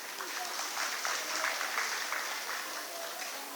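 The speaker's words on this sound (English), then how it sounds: "A big round of applause once more." Applause from an audience at a college cultural event, a fairly faint, steady crackle of many hands clapping throughout, with some voices mixed in.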